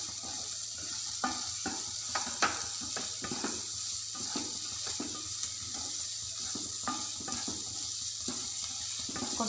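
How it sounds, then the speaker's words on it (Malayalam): Egg bhurji with chopped capsicum is stirred in a hot pan, giving a steady sizzle broken by repeated spatula scrapes and clacks against the metal, close and fairly quiet with no talking. "ഇനി നമ്മളിത് നന്നായിട്ടൊന്ന് ഒന്നുകൂടി മിക്സ് ചെയ്ത് കൊടുക്കുക."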